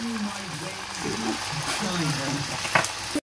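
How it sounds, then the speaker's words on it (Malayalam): Samosas frying in hot oil give a steady, close sizzle that runs under a voice talking throughout, with a brief louder crackle near the end. "അപ്പൊ നമ്മുടെ സമോസ എല്ലാരും നമുക്കൊന്ന് വറുത്തെടുക്കാം."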